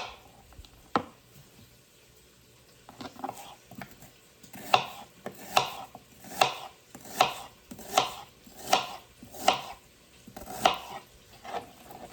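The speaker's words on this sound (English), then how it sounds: "I'm gonna cut up this onion." A knife chops an onion on a board in a home kitchen, a slow, even run of about ten distinct close chops after a few softer cuts, with no voices.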